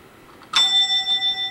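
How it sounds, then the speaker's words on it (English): A bell in a house hallway at the top of the stairs is struck once, giving a sharp ding that rings on clearly with a slow, wavering decay. "Oh, and the bell."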